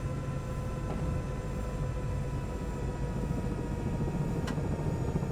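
Microsoft Flight Simulator 2024 helicopter engine slowing down, a continuous droning rumble with a faint whine that stays close and even in level, with a couple of brief light ticks and no talking.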